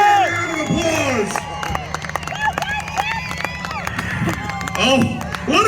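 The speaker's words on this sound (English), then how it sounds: "Ricky-Bobbie, the station topic, give him a round of applause" A live crowd claps, cheers and whoops loudly at a North Queensland event, with voices shouting over dense, continuous applause throughout.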